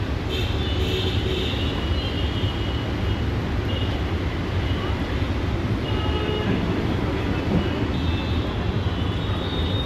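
Loud, steady roar of an electric train passing close by at a station in Mumbai, continuous rumble with high whine throughout.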